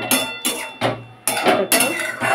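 Mustard-poppy paste masala is stirred in a cooking pan for a Bengali fish curry, giving a quick series of about six distinct scraping clinks of the spoon against the pan, close and fairly loud.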